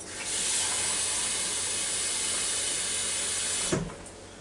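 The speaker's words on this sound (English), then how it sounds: "now I'm going to start putting water in there on them" Water pours steadily from close range into an Instant Pot over pinto beans, a continuous broad hissing splash for about three and a half seconds that stops with a brief clunk.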